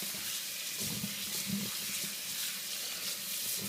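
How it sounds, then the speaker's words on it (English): Cold tap water runs steadily over pork organs being rinsed clean of scum and fat for a Cambodian braised street-food dish, a continuous close splashing hiss with no talk. "now we're going to rinse it with cold water"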